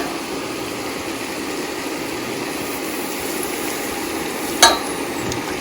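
Flour and milk stirred together in a pan for cheese sauce, a steady close scraping and soft sizzling hiss throughout, broken by one sharp clink of the utensil near the end.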